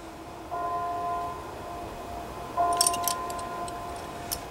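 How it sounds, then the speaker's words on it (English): Two distant town bells ring at noon with long, humming tones that fade slowly, followed by a few faint metallic clinks. "you may have heard those bells before. That's my town, town bells."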